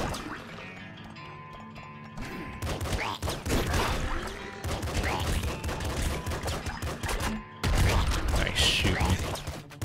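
Dense, continuous gunfire from the top-down shooter Nuclear Throne, volleys of sharp shots layered with game effects and music, bursts rolling nearly nonstop with a brief drop before resuming loudly.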